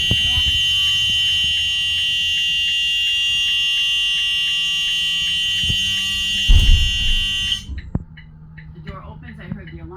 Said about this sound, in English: I heard the alarm.